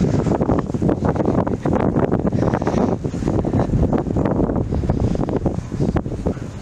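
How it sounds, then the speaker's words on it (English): Strong wind blows outdoors near a commuter train station parking lot in Montreal. A loud, continuous, gusty roar buffets the microphone the whole time, with no other clear sounds over it. "The wind is freaking blowing good"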